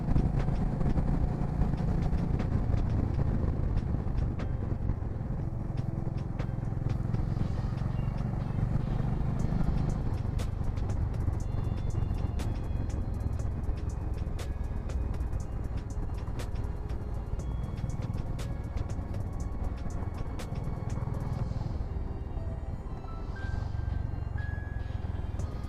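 Steady traffic roars along the Mumbai Pune Expressway overhead, a continuous low rumble of passing vehicles heard from below that holds at a constant level throughout.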